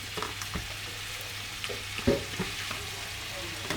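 Butter sizzles and melts in a saucepan still holding the residue of onions browned to golden, giving a steady, moderate frying hiss with a few soft stirring clicks and taps, heard close and alone.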